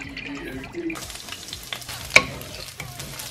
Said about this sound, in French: on commence par mettre dans une poêle des jalapenos